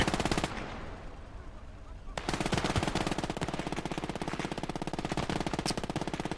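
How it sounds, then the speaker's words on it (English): A machine gun in the video game Gates of Hell fires a short burst, pauses with a distant rumble, then unleashes a long, sustained, rapid stream of loud shots. "Here's our MG."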